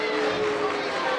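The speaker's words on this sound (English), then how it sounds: "Not sure why they're booing" Spectators at a varsity high school boys basketball game between South Brunswick and North Brunswick, held in Leland, fill a gym with continuous crowd noise. The broad, sustained roar sounds like booing blended with babble. A voice talks over it.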